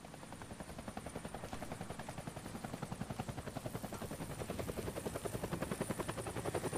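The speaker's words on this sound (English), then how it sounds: "That's the helicopter chasing my friends." A helicopter's steady rotor thump drones continuously in the video game Deadlight, rhythmic and fairly loud, growing slightly stronger over time, with no voices.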